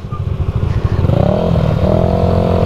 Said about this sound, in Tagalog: Hinihingal motor ko sa inyo.